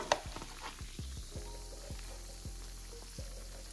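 Salmon croquettes frying in a pan give off a steady, faint sizzle, broken by soft, regular clicks and taps of utensils against the pan.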